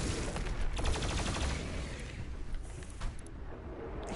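Rapid gunfire from Doom Eternal, a dense, loud, sustained barrage of shots with booming low end, continuous throughout and thinning slightly near the end.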